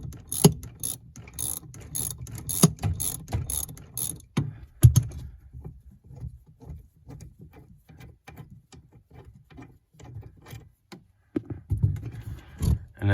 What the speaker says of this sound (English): I'm just gonna take that bolt out right there, and that should be another 13 millimeter